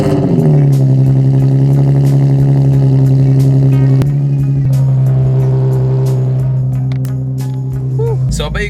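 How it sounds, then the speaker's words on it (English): Straight-piped 2009 Nissan 370Z cold start: a loud, raspy high idle drones steadily up close, easing slightly toward the end, with a few clicks over it. "there's a cold start on a 2009 straight pipe Nissan 370Z"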